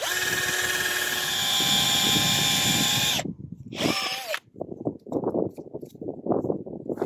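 A power drill whines steadily for about three seconds boring into a maple tree, stops, then gives a short second burst, followed by scraping and rustling handling noises.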